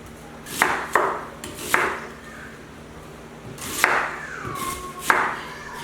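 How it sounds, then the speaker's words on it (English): A knife roughly chops an onion on a cutting board in a few sharp, irregular thuds with pauses between them, close and fairly quiet. "I have my onion all peeled, so I'm just going to give it a really rough chop"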